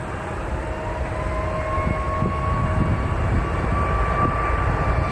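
A Southwest Airlines jet taxiing at Nashville International Airport gives a steady, moderately loud engine whine with a rising tonal hum, close by, with a low rumbling underlayer and no talking.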